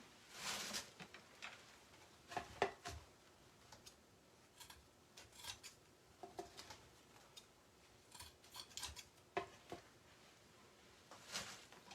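Scissors cutting material for a fall swag, repeated quiet snips and crisp clicks in irregular bursts across twelve seconds, close but faint, with small rustles between cuts.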